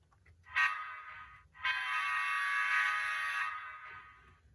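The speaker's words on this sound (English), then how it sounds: "Next is the horn." A Rapido F59PH model locomotive horn sounds a short blast, then a longer sustained one that fades out, loud and close with a buzzy harmonic tone.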